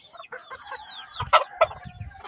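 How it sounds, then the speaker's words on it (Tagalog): Chickens cluck in short bursts nearby, with a couple of louder squawks amid the soft murmuring calls. "Itong manok na dalawang ito."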